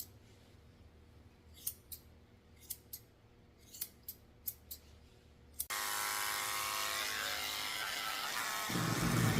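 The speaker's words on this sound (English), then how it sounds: "I'm going to go ahead and trim some of the hair away from her eyes" Scissors snip hair on a senior toy poodle's face, about eight sharp, separate cuts in a fairly close quiet room, followed by a steady loud rushing or buzzing noise that takes over.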